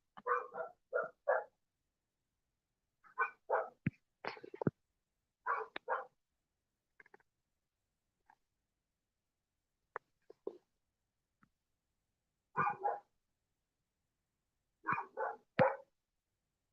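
A dog barks in short bursts of two or three yips, with long quiet gaps between them. The barks are fairly close and there is no talking.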